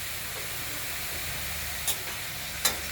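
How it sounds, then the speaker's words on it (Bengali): Rattan shoot greens stirred in hot oil give off a soft steady sizzle, with two brief sharp scrapes of the utensil near the end. "এটাকে আমরা তেলের মধ্যে নাড়াচাড়া করবো"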